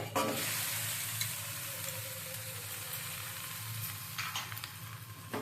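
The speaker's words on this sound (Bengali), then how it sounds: "আমার ডিমটা ভাজা হয়ে গেছে, এখন পাস্তাটা আমি দিয়ে দেবো।" Pasta is added to fried egg in a pan, producing a soft, steady sizzle with a low hum underneath and a few stirring scrapes, fairly quiet and without speech.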